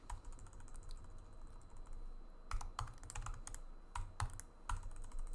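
Typing on a computer keyboard, quiet and close: irregular clusters of key clicks that start after a couple of seconds of near silence and continue in bursts to the end.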